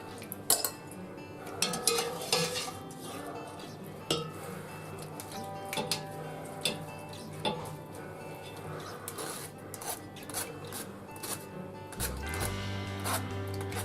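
Coq au vin ingredients being lifted out of a pot, with a steady run of metal utensil clinks and scrapes against cookware, moderately close, and a low hum that shifts near the end.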